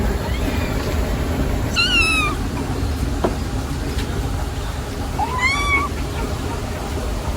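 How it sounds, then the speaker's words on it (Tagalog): A cat meows twice, a few seconds apart, over a constant loud rumble of heavy rain. "Yan po yung pusa ni Idro."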